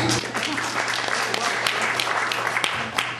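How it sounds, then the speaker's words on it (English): Guests at a Humanists of Houston solstice party give a round of applause, brief and fairly loud crowd clapping with a few sharper individual claps standing out. "So give yourselves a round of applause"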